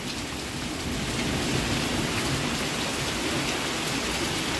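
Steady, dense rain falling hard and close onto a porch during a windy hailstorm, a continuous broadband hiss with no voices.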